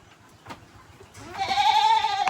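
Goats on a farm give one loud, wavering bleat, preceded by faint scattered rustling and a short thump.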